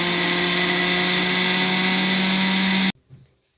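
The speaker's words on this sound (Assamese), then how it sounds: "এটা চাউলখিনি পিচিব লৈছো" A kitchen mixer grinder grinds rice for Assamese pitha, its motor holding a loud, steady high whine for about three seconds before cutting off abruptly, leaving only a faint rattle and clunk.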